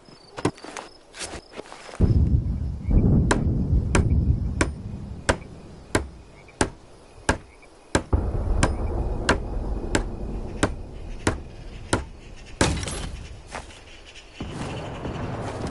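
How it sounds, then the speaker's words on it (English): Hammer strikes ring out as a barricade is built in a Vietnam war video game, a steady series of sharp evenly spaced blows, about one per second, close and loud over a low ambient rumble. "Use the hammer in your loadout to finish constructing it."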